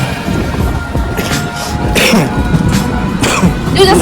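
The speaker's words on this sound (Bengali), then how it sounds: "আমি একটা কাশি হয়েছে, কাশিটা ভালো হয়নি, কাশি আসছে" A few rough, harsh coughs close to the mic, spaced apart over a steady background hum.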